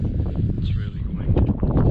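Cold wind blows steadily across a microphone on a snowy mountain hike, a constant rumbling buffet with gusts that swell toward the end.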